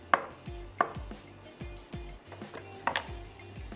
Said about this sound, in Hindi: चलिए इन तमाम मशरूम्स की मैं यहाँ पर कटिंग कर लेती हूँ